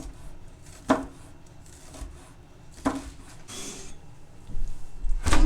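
A knife chops onions on a cutting board in a few separate strokes, each a short sharp knock with a brief scrape after it, close by and moderately loud, with a quick flurry of cuts at the end.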